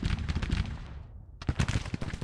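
Infantry gunfire in the Civil War strategy game Grand Tactician, dense crackling musket volleys that briefly drop out and then resume as a loud close burst.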